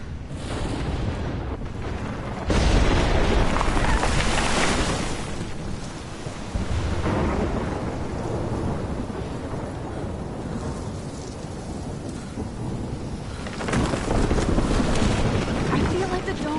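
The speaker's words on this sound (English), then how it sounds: "I've never seen a storm like this in Oregon." Storm in the video game Life Is Strange: a steady roar of wind and rain with low rumbling surges that swell near the start and again toward the end, loud and continuous throughout.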